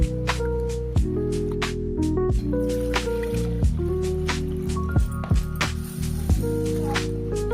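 Rice grains are washed by hand in water while preparing manda pitha: squishing, swishing grain-and-water sounds with drips and trickles, close and fairly loud, in irregular bursts of stirring and rubbing.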